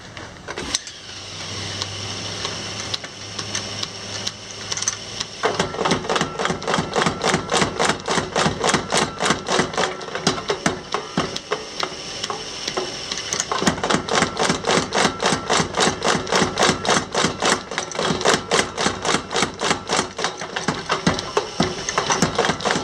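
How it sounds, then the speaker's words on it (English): A Little Giant 50-pound power hammer forges Damascus steel toward a knife blade. A motor hum builds first, then rapid, loud, evenly spaced hammer blows pound on continuously, close up. "This here is the Little Giant 50-pound power hammer"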